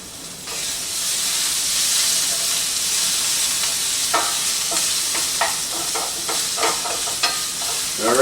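Onions and peppers sizzle steadily in a hot pan. After a few seconds a spatula starts scraping and stirring them in quick, repeated strokes.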